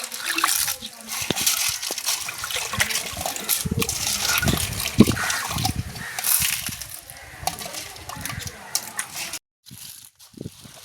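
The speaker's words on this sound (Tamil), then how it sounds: "ஒருக்கா கழுவிட்டோம். இன்னொருக்கா கழுவ போகிறோம்." Fresh sea shells are washed by hand in water during cooking on a beach, with repeated sloshing, splashing and the clatter of shells rubbing together, close up and uneven, ending in a short pause and a few last splashes.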